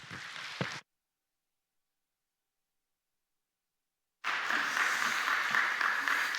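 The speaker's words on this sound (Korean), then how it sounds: "하나님께 감사하는 마음에서 큰 박수 부탁드리겠습니다" A church congregation at a Sunday afternoon service applauds the guest pastor: a short burst of clapping breaks off into a long stretch of silence, then a fuller, sustained round of applause resumes and carries on steadily.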